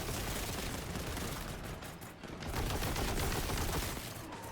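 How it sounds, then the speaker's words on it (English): Bolt weapons firing in Warhammer 40k: Boltgun, a dense, loud, continuous barrage of gunshots and impacts with no pauses, like sustained automatic fire. "The guns sound meaty, and the impacts of the different weapons, especially the bolt weapons, feel like they could easily punch through someone's chest."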